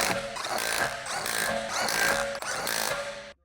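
An impact wrench fitted with a 17mm deep socket hammers wheel lug bolts tight on a 1999-2007 BMW 325ci E46, a loud, continuous buzzing rattle close by that stops abruptly after about three seconds.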